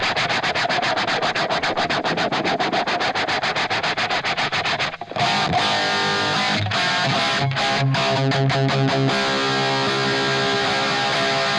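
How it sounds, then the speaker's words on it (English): Electric guitar played through a phaser pedal on a new pedalboard: dense sustained distorted strumming with a sweeping swirl, then a brief dropout and choppier individual chords ringing out, loud and steady throughout with no talk. "There's the phaser. Slow it down a little bit."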